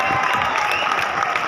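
Comedy show crowd applauding during a stand-up set, a brief, dense burst of clapping with some cheering, close and fairly loud.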